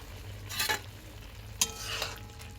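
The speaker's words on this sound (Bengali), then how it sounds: "ভালোভাবে নাড়িয়ে দিয়ে আরও একবার ঢাকা দিয়ে এটাকে ফুটতে দেবো" Kohlrabi with nigella seeds being stirred in a pan, two short scraping sweeps of a spoon against the metal over a low steady simmer, close and moderately loud with no talk.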